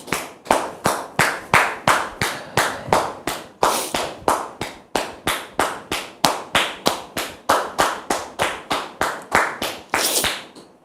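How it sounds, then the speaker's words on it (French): Steady rhythmic group clapping welcoming a guest, sharp evenly spaced claps repeating in unison for about ten seconds, fairly close and with no talk. "Sous vos applaudissements, s'il vous plaît."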